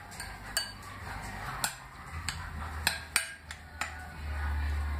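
A utensil clinks against a bowl while nopal salad with avocado is stirred, a few sharp taps and scrapes spaced irregularly over a faint background, heard close and alone.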